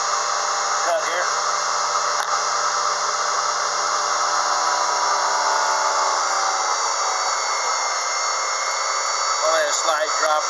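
Unimat SL-1000 mini lathe taking a very light cut on hot rolled steel, a steady close motor whine with scraping cutting noise throughout, a brief rattle near the end.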